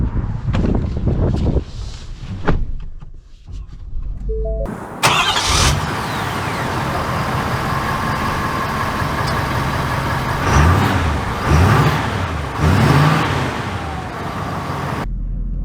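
A Ford Power Stroke diesel pickup rated at 500 horsepower cranks and fires into a steady loud idle, heard from inside the cab, with a couple of revving swells later on and no talking.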